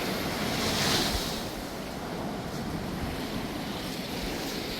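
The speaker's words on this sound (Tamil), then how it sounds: "இந்த டைமில் பார்த்தீங்கன்னு சொன்னால் கடல் அலை அங்கே எழும்புன்னு சொல்லி பாருங்க." Sea waves surging toward the shore of a storm-damaged fishing coast, a steady broad roar of surf with gusting wind noise on the microphone, one swell building louder early on before settling into continuous wash.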